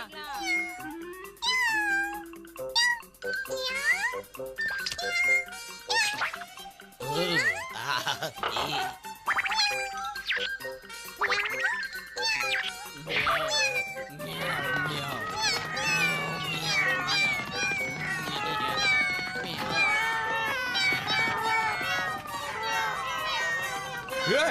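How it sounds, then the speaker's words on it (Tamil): A crowd of cartoon cats meows over and over in a Ninja Hattori episode dubbed in Tamil, with overlapping, rising and falling calls and comic boings, while characters talk throughout. "என்னப்பா அது இத்தனை பூனைங்களா?"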